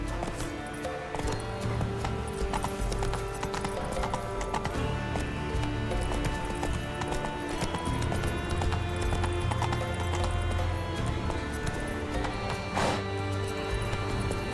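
Geralt's horse Roach gallops in The Witcher 3 with steady, loud clip-clop hoofbeats throughout, layered over game music and ambience, with a brief snort or crash near the end.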